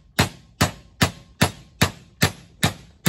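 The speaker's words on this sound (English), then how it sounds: "A gentle tap with a smaller hammer." Eight evenly spaced metallic taps from a small hammer on a screw during a differential locker install on a 2014 Toyota Hilux Vigo, close and crisp, each with a short ringing decay.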